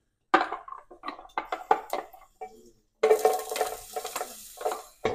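Garlic and chopped onion hit hot oil in a saucepan, giving bursts of stirring and scraping, then a loud, steady sizzle that fills the second half, close and alone.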